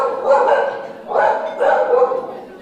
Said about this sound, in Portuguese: falamos do cachorro latindo pra parede aí